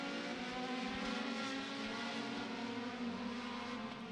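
Compact race cars in an SCDRA Compact Clash feature at Beckley Motor Speedway drone past on the oval, a steady, distant engine roar with no talk.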